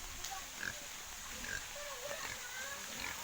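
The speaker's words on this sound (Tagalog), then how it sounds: "baboy ng kapitbahay" A neighbour's pig at a rural mountain farmyard gives faint, scattered grunts over a steady outdoor background hiss, with a few short oinks spread across the moment.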